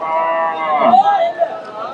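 Friesian cross dairy cow lowing at a busy cattle market, a drawn-out moo rising and falling over the steady murmur of the crowd and nearby chatter.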